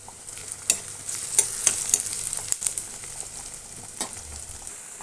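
Cumin seeds and green chilli pieces frying in oil in a pan for a drumstick curry, a steady close sizzle broken by sharp crackles and spoon stirring scrapes, no voices.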